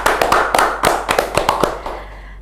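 A short burst of hand clapping, about a dozen sharp separate claps in an uneven rhythm, close and loud, fading out at the end with no talk over it.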